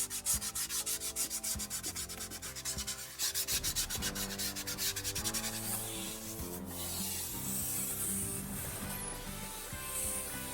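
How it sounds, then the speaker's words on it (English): Someone sands the back of a plywood boat panel by hand, making rhythmic back-and-forth rubbing strokes, close and fairly faint, that quicken and blur into continuous scraping. "Another important thing to sand is the back of the panel"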